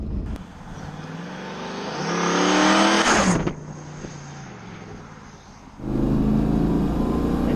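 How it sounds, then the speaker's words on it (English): A turbocharged car engine revs hard and climbs to a loud peak, then the turbo blow-off valve releases with a sharp whoosh. The engine settles to a lower drone before revving up strongly again. "It's that beautiful blow-off valve. Love that sound."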